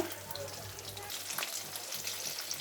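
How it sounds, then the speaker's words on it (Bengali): Steady crackling sizzle of fish frying in hot mustard oil in a wok, close and continuous, with a low hum underneath and no talking. "মাছগুলো উল্টো দিকে ভাজা হতে হতে আমি মশলাটাকে বানিয়ে নেব।"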